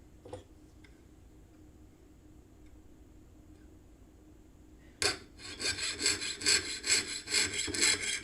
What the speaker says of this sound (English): I'm just going to saw it right into those tabs